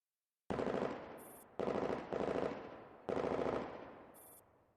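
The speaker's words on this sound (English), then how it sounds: "The air resounds with fierce gunfire." Bursts of loud machine-gun fire in the video game Girls' Frontline, three sustained volleys with short gaps between them, each fading away, and no talk.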